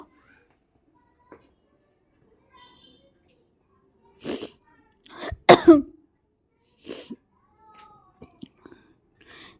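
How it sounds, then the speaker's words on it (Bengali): A woman with a sore throat coughs several times in short bursts, close and fairly quiet, with near-silence between. "বারবার এরকম হচ্ছে কাশি আসছে"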